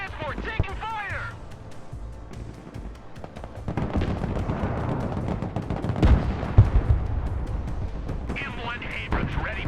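Gunfire and heavy rumbling impacts hitting a troop transport in the military strategy game Broken Arrow, a dense booming barrage building in the middle, with radio-style voice chatter at the start and end.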